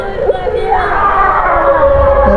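A large crowd gathered at a Hul maha festival produces a dense, steady roar of voices and shouts, loud and close, filling the whole moment without pause.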